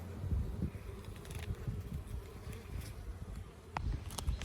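Honey bees buzz on a hive frame close by, a dense, steady hum with louder passes as individual bees move near, and no one speaking.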